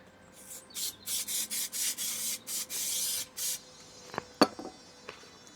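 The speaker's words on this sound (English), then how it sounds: "So what I'm going to do is spray on the inside of there now." Adhesive is sprayed inside a campervan ceiling in a series of short hissing bursts, close and loud, followed by a few clicks and knocks as the can is handled, no voices.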